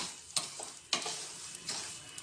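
Ground edible gum puffs and fries in ghee with a soft sizzle, punctuated by a few sharp scraping stirs of a spoon against the pan.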